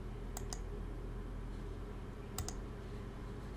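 A computer keyboard being typed on to enter a math problem, with two quick pairs of light, close key clicks over a quiet room hum.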